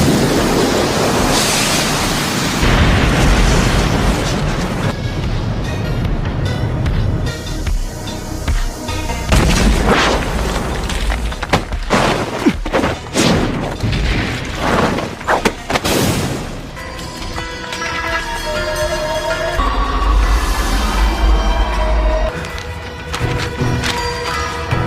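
Fire style jutsu explosion in an anime fight, heard as a loud, sustained roaring rumble with crackling bursts that swell and surge over about twenty-five seconds.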